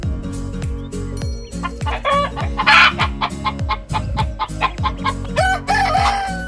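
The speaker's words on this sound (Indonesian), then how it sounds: "Betul sekali, ayam." Chickens cluck in rapid, repeated bursts close by while a rooster crows loudly through the middle and again near the end, a busy farmyard sound with no talking.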